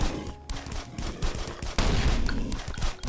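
Rapid gunfire aimed at a boss in Last Island of Survival, dense overlapping bursts of shots, loud and close, continuing throughout with no pause.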